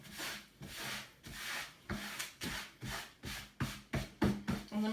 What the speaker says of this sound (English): I'm just gonna dust all of this little sand dust, sawdust, paint dust